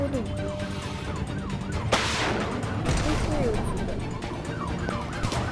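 Rapid bursts of video game gunfire crackle over a wailing siren and engine noise, with a loud crack near the two-second mark.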